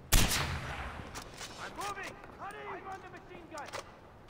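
Gunfire in Far Cry 4, opening with one loud close shot, then scattered distant bursts and pops from enemy machine guns, with other game sounds ringing between them.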